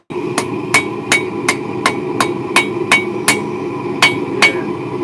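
Steady hammer blows ring out on an anvil during blacksmith forging, about a dozen sharp metallic strikes at an even pace over a low background hum.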